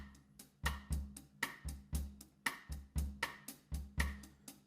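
Drum brushes play a light, traditional bossa nova groove: a steady, evenly spaced pattern of soft swishes and taps with low thumps, close and quiet with no talking.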